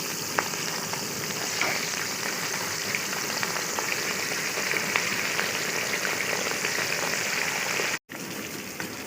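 Chicken pieces frying in hot oil for a party biryani, a steady dense sizzle with scattered crackles and pops running throughout, close and fairly loud, no talking.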